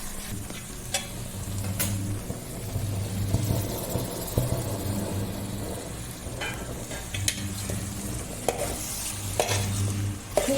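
Tomatoes fry with onions in oil for fish biryani, a soft steady sizzle broken by scraping stirs and clinks of a spoon against the pan, close by, with no talking.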